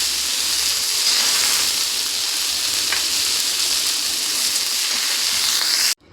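Broccoli frying in hot oil in a kadai gives a steady, close, even sizzle and hiss that runs unbroken for about six seconds, then cuts off abruptly at the end.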